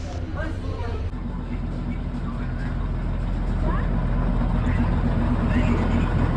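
A diesel engine of the Darjeeling toy train approaches to couple with a waiting train, its low rumble building steadily and growing louder while someone talks over it.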